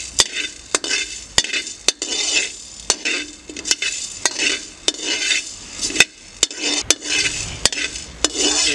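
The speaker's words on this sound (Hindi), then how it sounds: "और एक मिनट तक इसको इसके अंदर ब्राउन कर लेंगे।" Cloves and coriander browning in a pan for Kashmiri dum aloo, with a spoon scraping and clinking against the metal in a steady rhythm of sharp taps over a soft, constant sizzle.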